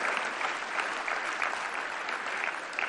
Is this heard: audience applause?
yes